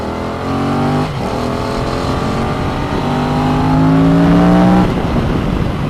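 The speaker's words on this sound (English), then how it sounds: "When you crack the throttle open" A Yamaha MT-07 motorcycle engine, loud and close, climbs smoothly in pitch as the throttle opens, a steady rising drone with a brief dip before building again.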